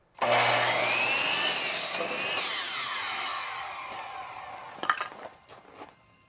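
A power saw cuts through a 2x4 wood board for a frame, starting with a loud high whine that slowly winds down, followed by a few clattering knocks as the piece drops.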